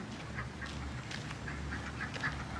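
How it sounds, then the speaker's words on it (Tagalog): Ducks quack repeatedly in short nasal calls against a steady outdoor background hum during a walk, moderately near, with no talk. "Pato, pato. Hello, pato."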